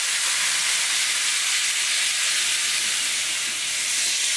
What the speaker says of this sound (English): I'm just gonna let this simmer until it's absorbed